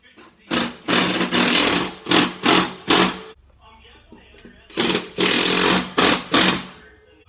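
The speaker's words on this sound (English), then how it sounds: "I'm gonna get these holes drilled and mount that thing." Power drill boring holes to mount a bracket on a Yamacart build, in several loud bursts of whirring with short pauses between, then a quieter stretch before more drilling bursts.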